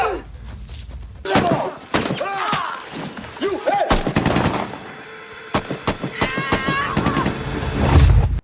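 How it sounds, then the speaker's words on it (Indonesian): Gunfire in a forest scene from a film, with sharp bursts and rapid volleys of shots breaking through intervals of quieter sound and scattered voices. "Tetapi setelah itu terdengar suara tembakan."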